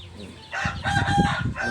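A rooster crows close by at a Thai chicken yard during feeding, one long strained call that rises and holds, with other chickens clucking around it.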